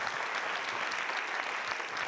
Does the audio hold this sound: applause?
yes